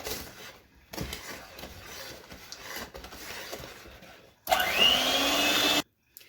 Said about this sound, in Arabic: ضربت ضربة واحدة بس كده بالمضرب علشان اخلط المكونات